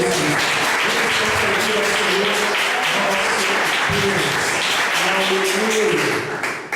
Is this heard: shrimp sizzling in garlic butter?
no